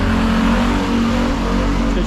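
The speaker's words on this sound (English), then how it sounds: "motorcycles and cars going by" Continuous engine rumble of cars and motorcycles passing close by on a street in Macau, a low droning hum with faint revving, steady throughout with busy street noise.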